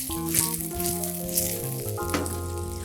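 Chicken drumsticks frying in a pan, browning on their sides, give a steady close sizzle with a constant tonal background layer, continuous throughout and without speech.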